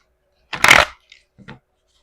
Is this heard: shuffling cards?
yes